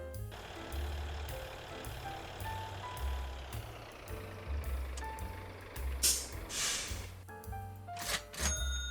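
A truck in the Motor Town driving game rumbles with a low steady engine drone, reversing beeps and a hiss like an air brake, plus a few thunks and clanks toward the end.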